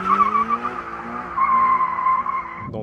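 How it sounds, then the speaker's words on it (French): A Toyota GR86 lapping a race circuit, its engine droning steadily with a faint tire squeal over the top as the car holds a moderate pace. The engine note climbs once and then eases off. "Alors, nous voilà partis sur quelques petits tours du circuit."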